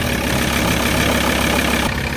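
Car engine running loud and close with a steady, rough idling rumble.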